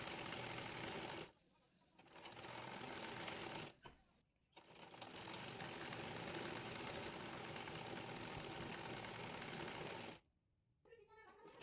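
A sewing machine runs in long continuous bursts while stitching a skirt palazzo, steady and loud, with brief pauses between runs.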